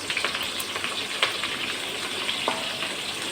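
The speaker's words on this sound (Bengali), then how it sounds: "এই যে একটু লাল লাল করে ভাজলাম, ঝালটা পেঁয়াজটা একসঙ্গে।" Chopped onion and green chillies fry in hot oil in a pan, a steady close sizzle with scattered crackles and a few sharper pops, no talking.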